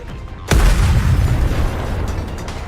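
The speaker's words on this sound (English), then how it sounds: "The missiles have no homing ability. It's just firing wildly." Missiles firing and bursting in the game Goddess of Victory: Nikke, opening on quiet before one loud, sudden boom whose rumble rolls on and slowly fades.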